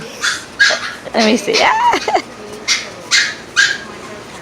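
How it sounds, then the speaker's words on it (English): A 12-week-old Doberman puppy whimpers and yips in a series of short, high, repeated cries close by, while a person talks over the sounds. "My, look at my dog."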